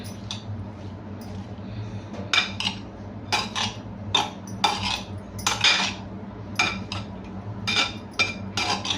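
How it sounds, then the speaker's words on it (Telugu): A spoon mixes chaat masala into a peanut snack in a steel bowl, giving bursts of clinking and scraping metal strokes in an irregular rhythm, close and alone. "ఇప్పుడు ఇదంతా మనం స్పూన్తో మిక్స్ చేసుకుందాం"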